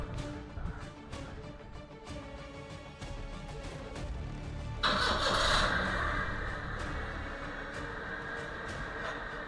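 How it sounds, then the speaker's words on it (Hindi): A car engine with a bad engine bearing runs at a low, rough idle, then grows louder and harsher about halfway through, a close mechanical clatter and rumble with no speech. "तो इसके इंजन बेरिंग की इतनी खतरनाक आवाज़ है यार।"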